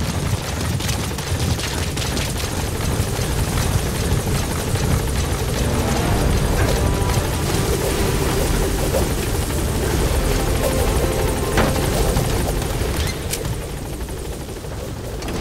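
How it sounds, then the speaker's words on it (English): A video game support helicopter's rotor thrums loudly and steadily throughout, with sharp bursts of gunfire crackling over it now and then. "Support helicopter has arrived."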